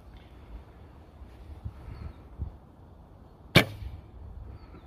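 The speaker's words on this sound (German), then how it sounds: "Machen wir mal Cloud-Schuss, erstmal mit dem leichten Pfeil." Light arrow loosed from a 111 lb bow outdoors, a single sharp crack of release partway through, standing out against a quiet background of faint wind and distant noise.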